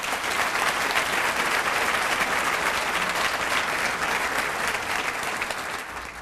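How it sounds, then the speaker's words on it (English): A large audience at a school district State of the District address gives sustained, dense applause, loud and even for several seconds before easing slightly at the end. "let's give them one more round of applause"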